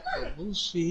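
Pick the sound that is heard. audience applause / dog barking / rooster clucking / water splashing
dog barking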